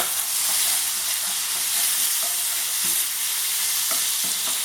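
Chicken pieces sizzle and fry in a hot pan as they are stirred, giving a constant crackling hiss with occasional scraping knocks.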